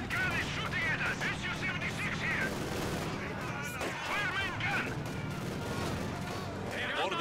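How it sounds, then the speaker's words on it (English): Tank gun fire and battlefield chaos in the Company of Heroes 2 video game, a dense din of shots and blasts with shouted soldier voices layered throughout, loud and continuous. "There's a tank gun is shooting at us."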